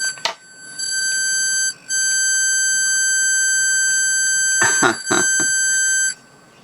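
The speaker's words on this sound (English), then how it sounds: "And I'll have to dry it out to make it stop beeping." A water-level alarm circuit from an electronics kit sounds a shrill, steady electronic beep for several seconds, briefly cutting out once, with a few rustling clunks near the end before it stops.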